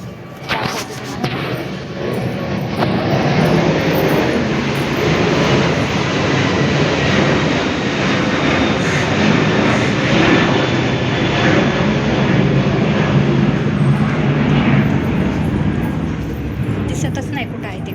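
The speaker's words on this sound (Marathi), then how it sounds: "आता बघा किती विमान यायला लागले." Airplanes fly overhead during rain, a loud, continuous broad roar that builds at the start and holds steady throughout, with a voice talking over it.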